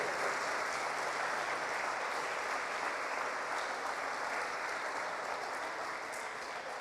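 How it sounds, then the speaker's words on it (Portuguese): A church congregation applauds during a worship service, steady dense clapping filling the whole stretch without a break, fairly near and even in loudness, with no voices standing out above it. "Aplauda o Senhor."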